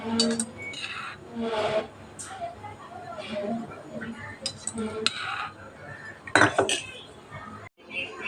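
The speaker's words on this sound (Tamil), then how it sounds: "ஒரு ரெண்டு ஸ்பூன் எண்ணெய் ஊற்றிக்கிறேன்" Utensils clink against a tawa on a kitchen stove while oil is added before frying anchovies. Scattered sharp metallic taps and clinks sound close, mixed with a voice talking.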